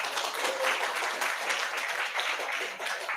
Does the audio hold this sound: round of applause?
yes